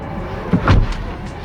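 A Tesla Model X closes its doors automatically, giving a single soft, muffled thud midway through a quiet stretch, with faint low background rumble.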